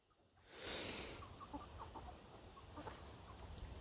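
Chickens cluck in their coop after free ranging, a cluster of soft, close clucks and murmurs over a low background rumble.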